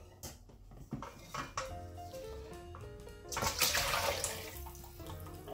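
Pheasant marinade strained in a kitchen to collect its juices, with liquid pouring and splashing, clinks of utensils against a bowl, and a louder gushing burst midway.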